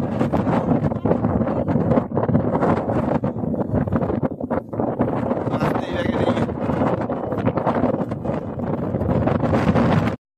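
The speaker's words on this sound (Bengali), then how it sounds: "ধামাকা হাওয়া দিচ্ছে।" Strong, steady wind on snowy mountain terrain buffets the microphone throughout, a constant roaring rush with gusts, until it cuts off abruptly at the end.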